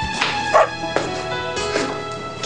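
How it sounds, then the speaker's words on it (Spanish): A small dog barks and yips in a few sharp, close bursts, with short whimpery notes between them, loud and alone without talk. "Qué bonito perrito."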